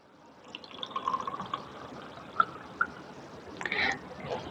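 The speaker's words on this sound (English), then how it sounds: "Now, I'll take some water and fill it in the jar." Water is poured into a jar for a classroom demonstration of Archimedes' principle, a soft continuous filling trickle with a few small splashes and drips, close and fairly quiet.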